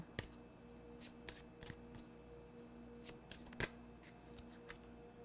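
Advice and guidance cards are shuffled by hand in quiet, irregular bursts of soft riffling and slapping, close by and faint, with no talking.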